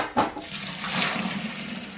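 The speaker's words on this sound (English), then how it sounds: "I have roughly 4 gallons of 170 degree sparge water I'm going to add in now." Roughly four gallons of 170-degree sparge water poured into the grain for a batch sparge while brewing a cream ale: a brief splash at the start, then a steady rushing pour of liquid, close and moderately loud.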